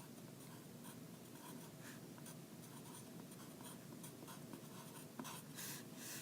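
Marker or chalk scratches on a board while a math function is written out, faint steady strokes with small taps, no talk.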